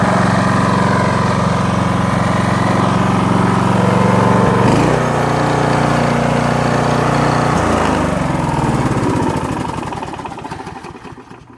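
A petrol lawn mower engine runs close and loud, a steady rough drone with small shifts in pitch before it winds down and fades at the end.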